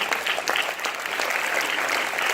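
A crowd applauds steadily, a dense wash of clapping hands that holds at an even level.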